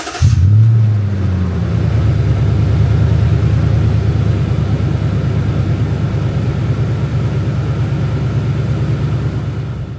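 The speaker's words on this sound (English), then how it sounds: "this is gonna be the cold start of the Magnaflow Overland series muffler" A Lexus GX460 with a Magnaflow Overland series exhaust cold-starts with a quick crank and a sharp rev flare, then drops into a loud, deep, steady rumbling idle.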